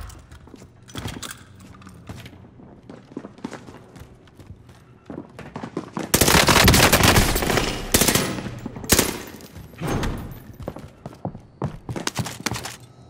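Warzone Rebirth video game gunfire: scattered single shots at first, then a loud sustained automatic burst and several more sharp volleys, close and intense, with clattering footsteps between.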